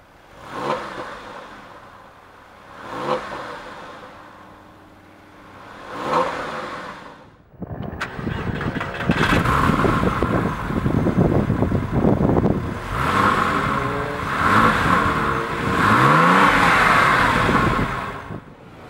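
A 3.6-litre Porsche flat-six engine in a 2002 Carrera 4S blips three times at idle, then revs hard and holds high, roaring loudly and close by, with no voices.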